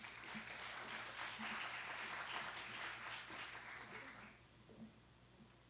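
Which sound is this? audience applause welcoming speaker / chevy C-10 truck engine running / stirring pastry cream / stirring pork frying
audience applause welcoming speaker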